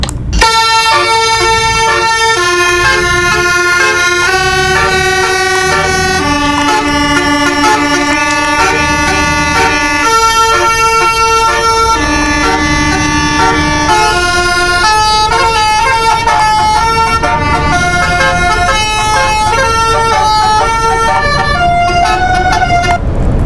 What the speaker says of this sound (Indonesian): BTW bus ini juga ada basurinya